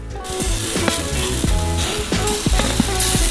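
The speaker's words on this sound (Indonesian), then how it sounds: "Angkat irisan daging dengan spatula, lalu balikkan. Di sisi ini goreng 10 menit." A beef patty fries in a pan with loud, close sizzling that crackles and pops throughout, punctuated by scraping spatula strokes.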